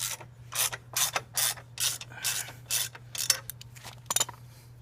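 A hand ratchet loosening crash bar bolts on a Yamaha XSR900 clicks in quick bursts of close, crisp pawl ticks, about ten short strokes in a row over a low steady hum.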